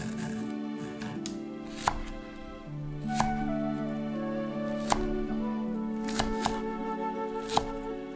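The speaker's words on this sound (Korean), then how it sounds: "대파는 흰 부분을 길게 4등분해주고 먹기 좀 크기로 손질해준다" A knife chops the white part of a green onion (daepa) on a cutting board, with a handful of crisp, irregular taps up close over quiet background music. No one speaks.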